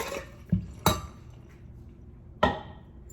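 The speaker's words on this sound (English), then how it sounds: "Okay, I'm gonna add my ice now." Ice going into a cocktail glass or shaker that already holds triple sec: three sharp, clinking impacts spaced apart, close and fairly loud, with no talking.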